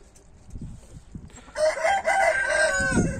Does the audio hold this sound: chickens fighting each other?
yes